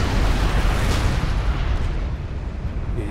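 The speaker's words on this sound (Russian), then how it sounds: "Это был мощный взрыв." A loud explosion in the real-time strategy game Supreme Commander roars as a dense, sustained blast with a deep rumbling body that slowly eases off over a few seconds, with no speech over it.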